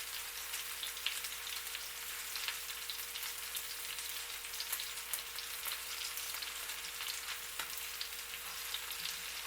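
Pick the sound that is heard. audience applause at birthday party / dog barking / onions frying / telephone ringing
onions frying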